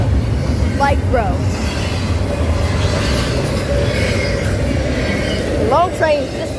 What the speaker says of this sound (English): All these trains are low-key loaded.